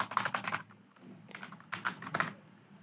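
Rapid bursts of typing on a computer keyboard while writing HTML code, close and clear, with clustered key clicks separated by short pauses and no talk.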